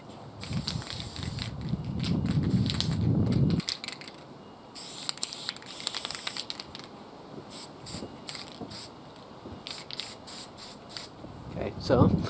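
Spray paint hisses onto a Pokeball container in short bursts, one sustained spray and then several quick sharp puffs. A low rumbling handling noise lies under the first part and a voice talks between the bursts.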